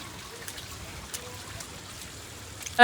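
Water from a spring on a hill trickles in a soft, continuous flow close by, faint and steady.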